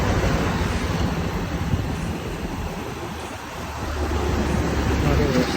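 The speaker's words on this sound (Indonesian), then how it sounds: "Anginnya sepoi-sepoi banget." Wind rushes past while coasting downhill on a bicycle through a city, a steady, full, buffeting roar close to the microphone that swells and eases slightly throughout.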